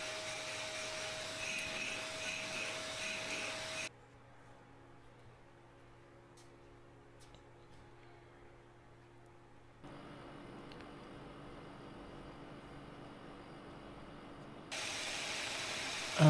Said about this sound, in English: And now I am finishing grinding the floor.